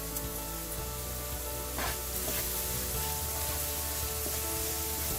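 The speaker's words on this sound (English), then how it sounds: "I'm going to crush the red chilies and throw them in with the onions so they saute well." Crushed dry red chilies and onions sauté in a hot pan for a beef masala, giving a steady, close sizzle and crackle with no one talking.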